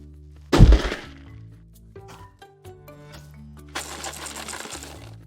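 A box is dropped with a loud thud, and loose contents rattle and clatter inside it, fading into quieter shaking and jostling that rises again into a longer bout of rattling.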